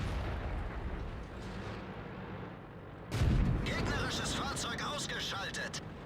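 Heavy artillery fire in the tank battle game World of Tanks: a deep, booming blast lands midway through, followed by sustained rumbling and crackling battle noise, with a low rumble of combat before it.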